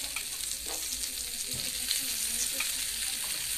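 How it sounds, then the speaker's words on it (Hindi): Paneer tikka searing on a tawa over a medium-low flame for tandoori paneer tikka, a continuous close sizzle and crackle with occasional soft turning sounds, no talk. "एकदम मीडियम लो फ्लेम कर दिए हैं और इसे सेक रहे हैं।"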